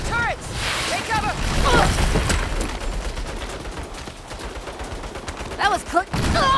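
Rapid bursts of turret gunfire in the Saints Row video game, loud and close, coming in clusters amid chaotic action noise, with a voice shouting over it.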